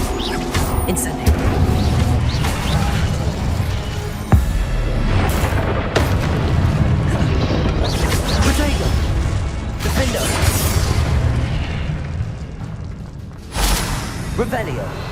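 Spell blasts, including the Incendio fire spell, burst repeatedly amid dense combat effects in the Hogwarts Legacy video game, with booming thuds layered over a busy, loud game soundtrack.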